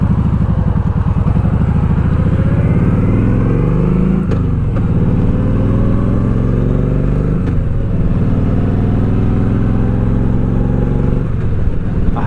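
Metric cruiser motorcycle on its stock exhaust, a loud, close, steady engine rumble with rising revs and a couple of gear shifts as it rides along.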